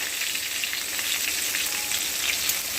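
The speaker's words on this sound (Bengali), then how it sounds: "এর মধ্যেই আমি কালো জিরে দিয়ে দেব। কালো জিরে দিলাম।" Nigella seeds frying in hot oil for a vegetarian pointed gourd dish, a dense, even, close crackling sizzle that holds steady throughout, with no voices.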